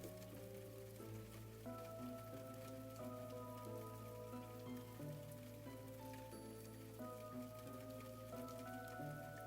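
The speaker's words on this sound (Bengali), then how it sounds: "মাথায় ছাতা ধরা সত্ত্বেও বৃষ্টির ছিটে ফোঁটা এসে তার সর্বাঙ্গে ছিটকে পড়ছে" Steady rain pattering on a village night, a soft even hiss of drops running under sustained melodic background music, with no gusting wind clearly standing out.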